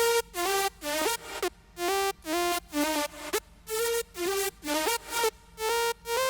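Layered Serum supersaw synths over a sub bass, played as loud, bright rhythmic chord stabs in a choppy repeating pattern, with short gaps between bursts.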